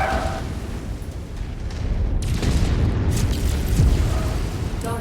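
Explosions of a destroyed target in a mech combat game, with heavy rumbling booms and bursts layered over continuous loud battle noise.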